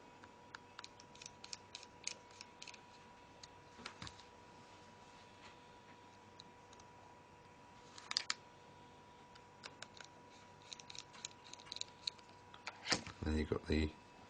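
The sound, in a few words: screwdriver driving small screws into a Nokia E7 phone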